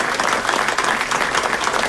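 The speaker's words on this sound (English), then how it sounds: "Big round of applause to Diego Sotelo." Audience at an Aurora city council meeting gives a big round of applause for an honored student, a brief, dense burst of many hands clapping, steady and loud.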